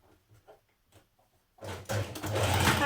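A sewing machine with a ballpoint needle sews a straight stitch along a T-shirt seam, starting after a few quiet handling taps and running as a loud, close, steady hum.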